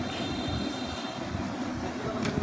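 A sewing machine runs continuously while stitching the cuff onto a jubba sleeve, a close, even motor whir with a faint high whine and one brief click near the end.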